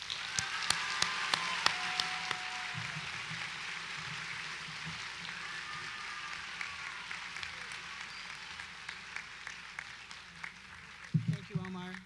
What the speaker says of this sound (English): let's have a round of applause for our graduates tonight